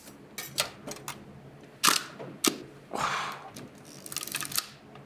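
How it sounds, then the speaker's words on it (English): A Hasselblad 500C/M medium-format camera shutter fires, with several sharp, close mechanical clicks and snaps spaced irregularly over a few seconds against a quiet background. "let's fire the shutter."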